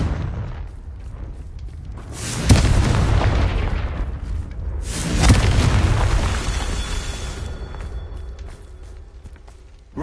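Two booming fire-blast spell explosions from Hogwarts Legacy erupt a few seconds apart, each a sharp loud crack swelling into a long rumbling roar that slowly decays, with no talking.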